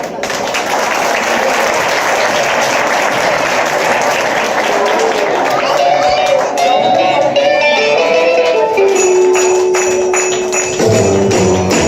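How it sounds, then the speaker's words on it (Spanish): A school audience gives loud sustained applause for first-grade children taking the stage for a Christmas dance, dense clapping throughout, with music and a voice starting to come in toward the end. "vamos a recibirlos con un fuerte aplauso"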